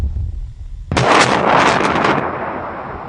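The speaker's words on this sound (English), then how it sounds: "about twice the size of this explosion" A single loud explosion bursts in abruptly after a quiet moment, followed by a heavy roaring, crackling blast that rumbles on for over a second before abruptly cutting off.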